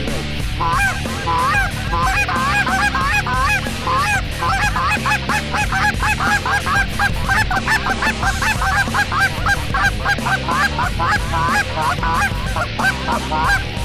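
A large flock of geese honking loudly and continuously during a hunt, many overlapping calls in a dense, busy chorus.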